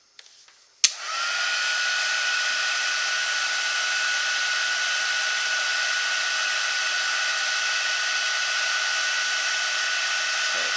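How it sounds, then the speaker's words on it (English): A heat embossing tool blows continuously to melt gold embossing powder, a steady close whirring fan hiss that starts abruptly with a click and runs unbroken. "Now I'm going to emboss this,"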